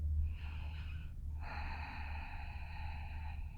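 A deep breath during a yoga stretch: a short breath in, a brief pause, then a longer, steady breath that continues to the end, close and quiet, with no talk.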